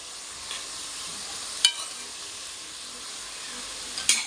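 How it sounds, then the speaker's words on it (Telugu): Chana dal fries in a pan for curry, giving a steady, moderate sizzle throughout with a couple of brief clinks of a utensil against the pan. "ఇట్లా 1 నిమిషం వేయించుదాం."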